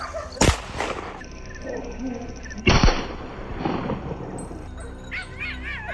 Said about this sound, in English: The dogs barked furiously from within the brush, and I rushed toward the sound.